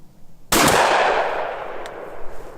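A single loud, close rifle shot aimed at a drilled hole in a metal plate outdoors, with a sharp crack and a long fading decay.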